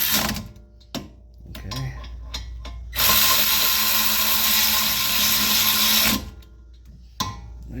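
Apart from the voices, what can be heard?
impact wrench driving brake bolts on 2019 Ford Escape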